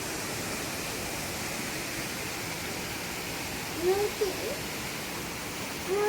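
Dam overflow water pours down temple steps like a waterfall, making a constant broadband rush at a steady level, with a couple of brief faint vocal sounds near the end.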